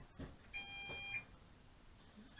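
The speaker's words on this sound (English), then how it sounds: "Controller will beep once," An MJX Bugs 5W drone controller gives a single electronic beep when powered on, one short tonal note of about a second that stands alone in quiet room noise.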